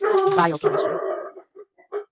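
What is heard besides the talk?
dog barking in the background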